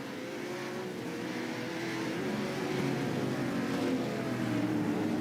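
Supercars roar around a circuit through a sequence of corners, a dense, steady engine drone that swells slightly in loudness with no clear gaps, heard alone without voices.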